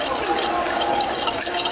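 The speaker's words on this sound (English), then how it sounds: "Okay, so we're gonna mix this up." Whisk stirring dry pancake ingredients (flour blend and salt) in a bowl, a close, continuous scratchy swishing with light scraping against the bowl.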